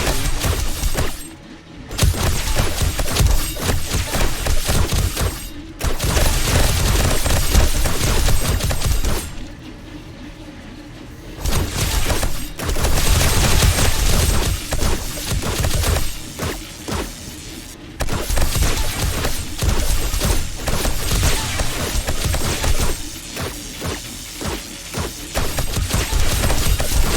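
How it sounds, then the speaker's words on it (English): Dart traps fire repeatedly at zombies in 7 Days to Die, a dense, loud barrage of sharp impacts and mechanical clatter running almost continuously, broken by a few brief quieter gaps. "Dart traps are firing even when there's nothing."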